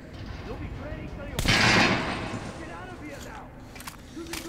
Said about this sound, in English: this is a pretty decent little assault rifle